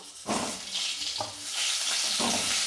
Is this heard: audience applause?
no